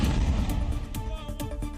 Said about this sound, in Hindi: लेकिन आयरन डोम को चकमा देकर एक छोटा बम एक इमारत के पास आकर गिरा और तेज धमाके के साथ आसमान में लाल रोशनी छा गई